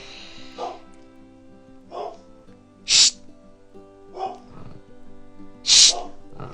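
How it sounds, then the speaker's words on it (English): A dog indoors gives a series of sharp barks and yips spaced a second or so apart, with two louder, higher barks standing out, while a person briefly shushes it. "he usually barks when someone walks by or when someone drops mail in my mail slot."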